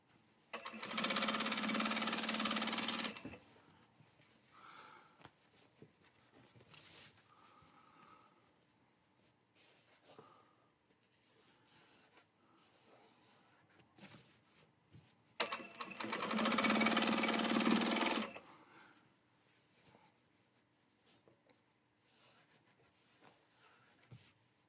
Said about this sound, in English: Then we top stitch down the front like that.